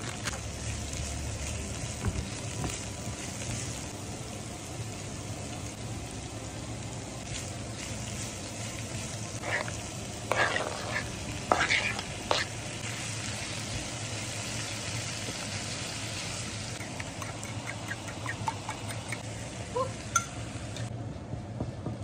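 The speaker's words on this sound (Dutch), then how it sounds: "Dus ik ga eerst de prei bakken." Chopped leek fries in a pan, a steady sizzle with occasional scraping and stirring clatter from a utensil, fairly close and continuous with no talking.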